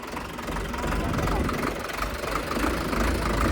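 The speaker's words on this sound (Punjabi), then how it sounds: "ਹੁਣ ਤੁਹਾਨੂੰ ਕਰਨ ਵੀ ਦਿਖਾਊਗਾ ਟਰੈਕਟਰ ਚਲਾ ਕੇ" An Indofarm 3055 tractor engine runs steadily nearby, a continuous low diesel rumble with a rough, knocking texture that holds at an even level throughout.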